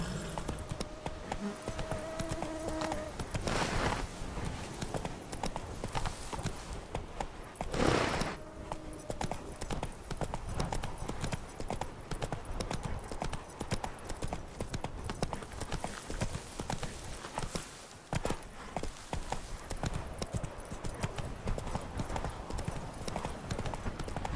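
A horse gallops in the video game Witcher 3: Blood and Wine, with rapid rhythmic hoofbeats running steadily throughout, plus a couple of louder bursts along the way and a faint buzzing ambience underneath.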